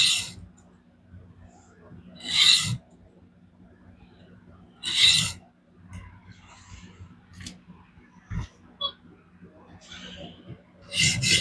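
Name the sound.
sharpening DC53 steel knife on Xarilk Gen 2 stone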